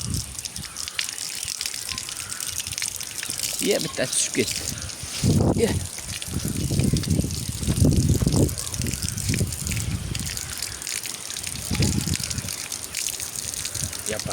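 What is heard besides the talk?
water running from a tap while washing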